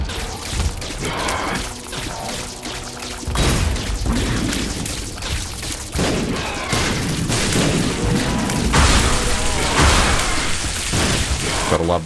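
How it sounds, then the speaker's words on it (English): Repeated self-inflicted explosions in the video game The Binding of Isaac: Repentance, loud booming blasts in quick succession over a dense, continuous game soundtrack, with no voice talking. "These self-inflicted explosions."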